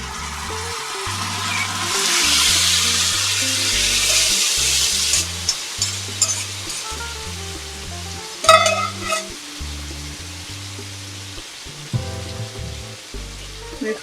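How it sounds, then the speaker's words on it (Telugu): Marinated chicken sizzles and fries in a hot pan while a utensil stirs and scrapes it in short, irregular strokes. The sizzle is loudest early on, and the scraping and clattering stay close throughout. "మ్యారినేట్ చేసి పెట్టుకున్న చికెన్ని ఇందులో వేసుకోవాలి."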